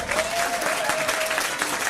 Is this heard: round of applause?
yes